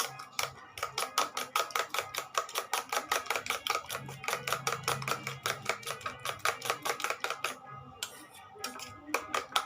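Eggs are whisked with salt in a bowl for an omelette, a fast, steady run of light clicking beats from the utensil that continues for several seconds, with a brief pause near the end.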